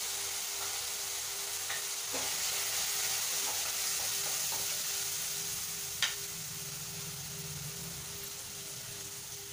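Tomatoes are sautéed lightly in a pan for mutton curry, with a steady, even sizzle and a few faint scrapes and taps of a spoon. The cooking carries on alone at moderate volume.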